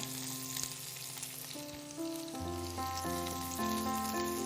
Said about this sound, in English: we're just going to toss that around a little bit, saute it for about 6 to 8 minutes